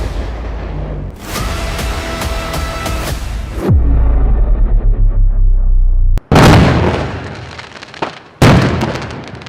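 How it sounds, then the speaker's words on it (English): A large explosion at a house in Pacoima, Los Angeles, recorded on a firefighter's helmet camera: loud, close, booming blasts and crackling bursts, followed by a deep roar and further heavy impacts. "a large explosion occurred at a house in the 13500 block of Remington Street, Pacoima, Los Angeles"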